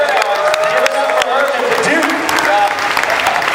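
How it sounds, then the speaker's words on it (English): Applause from a comic convention panel audience, a loud, continuous crowd clapping with cheering voices mixed in throughout. "a round of applause, please"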